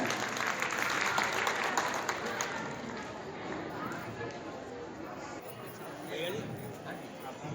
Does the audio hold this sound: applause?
yes